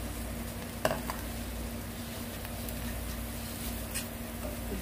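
Garlic hisses softly in a preheated frying pan over medium heat, a low steady sizzle with a couple of faint clicks and stirring taps.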